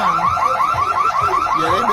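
A car alarm blares at a restaurant in Brooklyn, looping a steady warbling electronic siren with a repeating pulse, loud and close, filling the whole stretch without pause.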